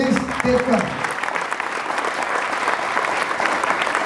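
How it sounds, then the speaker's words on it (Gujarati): Audience applause fills a hall at a Gujarati stage play on the Gold Coast, with a voice talking briefly at the start before the sustained, crowded clapping carries on to the end. "જોરદાર તાળી થઈ દોસ્તો"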